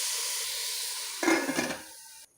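Ginger powder, pepper and salt sizzle steadily in a hot pan, with a brief louder burst of frying and stirring partway through before the sound cuts off.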